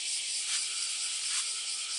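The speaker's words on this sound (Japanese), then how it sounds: "セミの声がうるさくなったな。" Cicadas on a summer morning beside a sidewalk in Fukuchi, Fukuoka, make a dense, continuous, shrill buzzing drone that swells slightly at moments and never stops.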